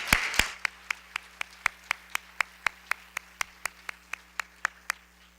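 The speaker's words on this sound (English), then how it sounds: "a big round of applause to all the people that were involved in this mission" Steady, evenly spaced claps ring out crisply at an award-style board meeting, about four per second, each sharp and distinct over a quiet room, with no voices.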